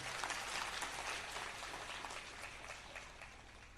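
A crowd applauds steadily to honour women at a Women's Day event in Dakor, a dense, even patter of many hands heard from a little distance and fading slightly toward the end.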